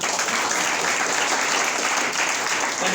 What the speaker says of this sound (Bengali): এই জন্য কি একটা করতালি হওয়া উচিত না?